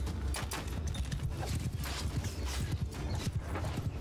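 Many hooves pound together in a dense, rapid rumble of horses galloping in a group in the video game Mount & Blade II: Bannerlord, steady and moderately loud with no voices.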